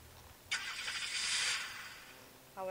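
A truck engine in the video game Unturned roars up abruptly, holds a loud broad rushing drone for nearly two seconds, then fades, with another engine sound starting at the end.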